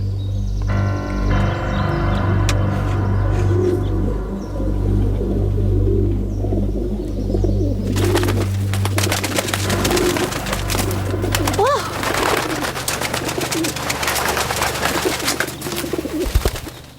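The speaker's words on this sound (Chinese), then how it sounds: "到时间该放鸽子了。" Pigeons are released outdoors, their soft low cooing running through the first half before a burst of busy fluttering and wing flapping takes over, fairly close and steady with no talk.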